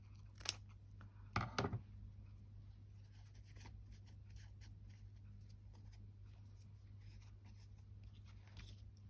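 Scissors snip a piece off a ribbon for a junk journal collage page, two quick close cuts near the start, then a quiet room with faint handling.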